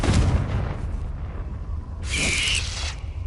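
A Confringo fire spell blast in Hogwarts Legacy on PS5: a single loud, bright burst with a ringing whoosh that lasts about half a second, over steady low game rumble.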